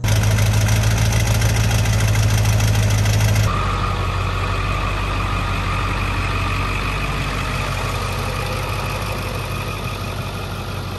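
A stock pickup truck engine idles with a steady, loud, low drone that runs unbroken throughout, shifting slightly in tone partway through, with no talking.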